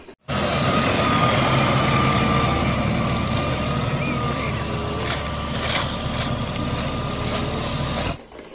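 A toy garbage truck's recorded sound effect, a loud, steady engine-like rumble with faint beeps and hiss, playing continuously for about eight seconds and then cutting off abruptly.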